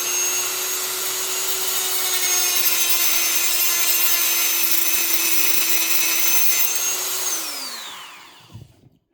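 A Dremel rotary tool cuts through a plastic bumper with a loud, steady high-pitched whine for about seven seconds, then spins down in a falling tone and stops, followed by a faint clatter.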